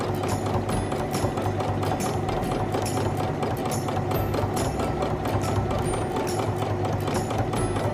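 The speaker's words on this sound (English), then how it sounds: "I can put the presser foot down and go ahead and stitch across the bottom of the pocket" A sewing machine stitches steadily across the bottom of a pocket, giving a continuous fast mechanical whir and rhythmic needle clatter at close range with no talking.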